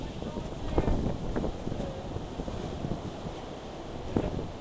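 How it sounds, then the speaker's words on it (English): Wind buffets a microphone on a beach in Curacao in a steady, moderately loud rush with a few gusty thumps, and no talk. "That's the wind"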